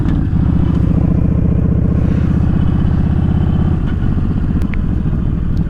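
Yamaha Stryker cruiser motorcycle engine under way, a loud, steady throbbing drone with pulsing low-end exhaust rhythm, the pitch easing slightly near the end, with wind and road noise and no talk.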